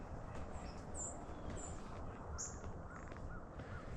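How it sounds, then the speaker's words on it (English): Several white-throated sparrows give thin, high 'tss' flight calls, a handful of short faint chips scattered over a steady low outdoor rumble. "You can hear the white-throated sparrows."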